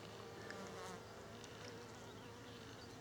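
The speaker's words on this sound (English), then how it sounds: "The bees are out in abundance" Bees in abundance work a field of clover along a countryside walking path, their buzzing a continuous close drone with several insects overlapping, steady and unbroken with no voices.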